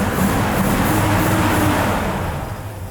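A 1957 Chevy engine idling while it warms up, a steady low rumble with a broad noisy wash, holding even before easing slightly toward the end.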